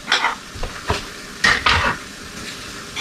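Minced onions, about half an onion, go into a pan of steak drippings. A few loud bursts of sizzling and scraping are heard close up, with quieter pan noise between them and no talking.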